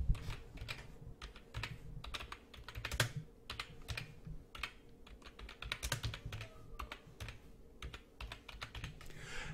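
Fingers type on a computer keyboard in quick, uneven bursts of close, soft clicks, with no talking.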